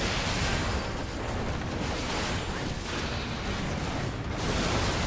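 Explosions from the Final Fantasy XIV Eureka Orthos game boom and rumble in a dense, continuous wash of loud blasts lasting several seconds, with no clearly separated individual hits.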